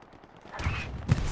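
Anti-tank gun firing at armor in the Hell Let Loose video game on the Foy map, a heavy distant boom rolling in after a quiet start, followed by a second thump.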